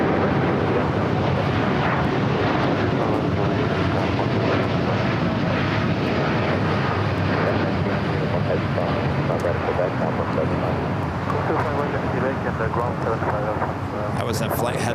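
Long, rumbling jet roar of an American Airlines Boeing 787-9 Dreamliner departing LAX for Chicago O'Hare. It stays steady and broad, with voices talking faintly over it.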